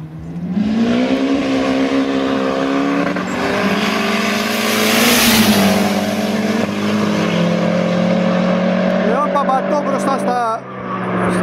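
Cars including a Saxo, a Corsa and a Leon launch from a standstill in a drag race, their engines revving loudly with rising, sweeping pitch in a sustained roar while a commentator talks over them.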